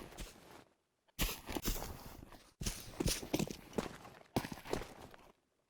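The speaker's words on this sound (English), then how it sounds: "When the player strafes back and forth, he only makes a footstep every once in a while" In Counter-Strike, a player strafes back and forth and leaves scattered footsteps. Clusters of crisp steps come in separate bursts with silent gaps between them, close and clear.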